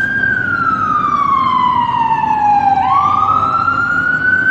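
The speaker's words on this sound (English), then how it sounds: "Ambulance." An ambulance siren wails as it passes by, loud and close, its steady tone sliding downward and then shifting in pitch as the vehicle goes past, over a low background rumble of traffic.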